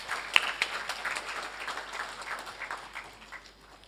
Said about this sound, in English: Please give sir a big round of applause.